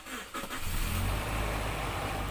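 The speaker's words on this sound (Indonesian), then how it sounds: "Kalian juga bisa mengeceknya dengan cara menghidupkan mesinnya" A car engine is cranked with a short starter whir, then fires and holds a loud, steady idle close by, ahead of a long trip.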